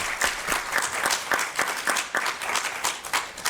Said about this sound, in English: Let's give Sophie a round of applause